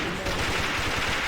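A Glock pistol fired from the hip in the video game AVA makes a dense, continuous rattle of close, loud shots.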